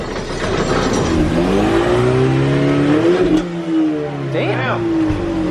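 A street-race car revs hard on a two-step launch limiter, giving a loud, close, droning engine note with sharp popping crackles, while people talk and shout over it.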